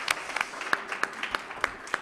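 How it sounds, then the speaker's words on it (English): Scattered, sparse clapping from a small audience welcoming artists onto a low stage at an art museum event, individual claps distinct and moderately close. "Give them a warm applause of welcome."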